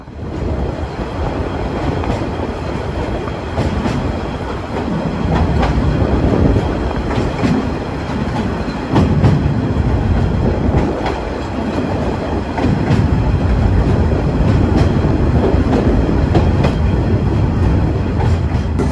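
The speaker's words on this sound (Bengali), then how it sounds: "আর এরই মাঝে আমরা ডিপার্চার নিয়ে বেরিয়ে যাচ্ছি কক্সবাজার রেলওয়ে স্টেশন থেকে" The Probal Express train on its inaugural run pulls out of Cox's Bazar railway station toward Chattogram, a loud constant rumble from inside with rhythmic clickety-clack of wheels over rail joints and occasional faint squeals.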